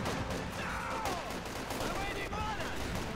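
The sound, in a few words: mortar fire in video game Company of Heroes 2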